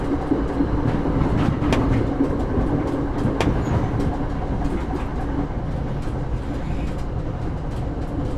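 A night passenger train rumbles steadily along the rails, a dense low roar with faint clacking and a few sharp metallic squeals, continuous and close, with no voices.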